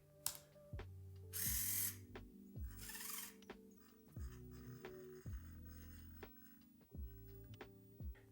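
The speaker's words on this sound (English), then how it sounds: "the servo recorded our movements and now it's repeating them." An Arduino-controlled servomotor replaying recorded movements, giving repeated short whining gear buzzes that step up and down in pitch, with a couple of louder rustling bursts near the start.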